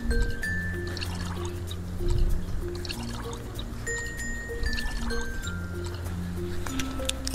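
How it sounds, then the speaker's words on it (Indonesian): Well water is poured into a tank for guppy fish, a steady splashing trickle that runs throughout at moderate volume with faint background tones. "Kita coba isi airnya. Untuk airnya saya menggunakan air sumur"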